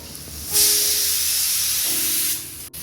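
Asafoetida hits hot oil in a pan with a sudden loud sizzling hiss that holds steady for nearly two seconds and then fades, up close in a home kitchen.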